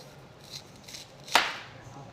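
A knife cuts through a sweet Vidalia onion into thick rings, giving one crisp, close chop with a short sharp crunch, plus a couple of fainter cuts just before it in a quiet kitchen.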